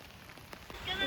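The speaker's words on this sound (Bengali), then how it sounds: "বৃষ্টিটা খুব ভালোই হচ্ছে," Rain falls steadily on surfaces at a beach resort, a close, even patter that grows a little louder toward the end, with a voice speaking over it.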